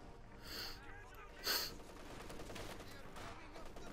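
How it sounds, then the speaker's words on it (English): An MG34 machine gun lays down suppressing fire out of windows in the video game Company of Heroes 2, two quick bursts of rapid shots, the second louder, with a low battle rumble continuing after. "MG34 laying down an Aegis of Deutschland around the centre there with its MG34. Laying down suppressor fire out the windows"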